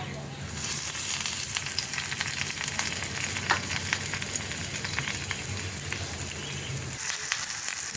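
Egg parcels wrapped in pumpkin leaves fry in oil in a pan over low gas, a close, steady sizzle with scattered sharp crackles and spits that drops off briefly near the end.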